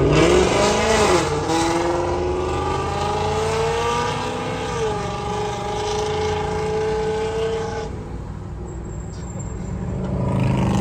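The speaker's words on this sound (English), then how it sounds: "I'm legitimately scared to do a cold start now in my neighborhood." A Ford Mustang V8 with a Corsa Xtreme exhaust and catless long tube headers cold starts and roars loudly, revving and settling into a rumbling, throaty idle with crackling exhaust close by, then swelling again.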